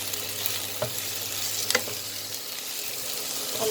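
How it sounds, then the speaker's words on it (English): Boiled button mushrooms and vegetables being stirred as they fry in a pan: a continuous sizzle with a few soft spatula scrapes and clicks, close and clear, no voices. "Just stir it."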